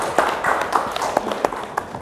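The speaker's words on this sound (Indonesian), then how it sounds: "Boleh dong tepuk tangannya dong" Scattered audience clapping at an Indonesian Ramadan health talk show, a few uneven claps over a low murmur, moderately near and fairly thin rather than a full ovation.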